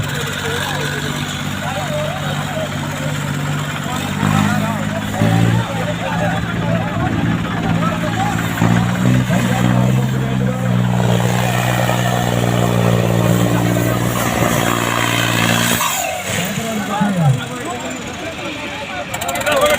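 Several tractors idle and rev in a Punjabi village, a low, steady engine rumble close by that swells and eases over about twenty seconds, with people talking throughout.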